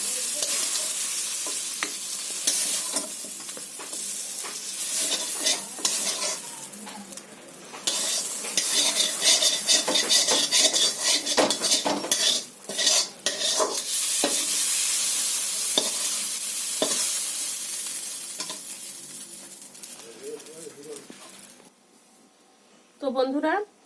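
Frying in oil while cooking a spicy Bengali dish of seed bananas, potatoes and eggplant with shrimp: a steady, loud sizzle with stirring scrapes runs almost throughout, dropping near the end, with some talk mixed in.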